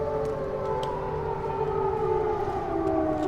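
A steady civil-defense siren wails in the video game Liminal Lane, its sustained tone droning continuously and slowly sliding lower, with no talk over it.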